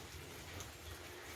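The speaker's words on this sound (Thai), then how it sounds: "มีลมเลยครับ" Steady wind-driven rain during Typhoon Noul in rural northeast Thailand, a continuous dense hiss with low rumbling gusts, close and unbroken, no voices.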